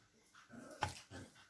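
Small dogs whimper and give a sharp bark indoors, faint and close, in short separate bursts with no talking.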